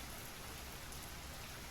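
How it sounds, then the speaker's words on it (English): Steady rain falling in the video game Underdrown, a soft, even hiss of drops on surfaces, faint and continuous with no thunder. "The rain kept getting heavier."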